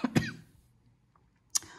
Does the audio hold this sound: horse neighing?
no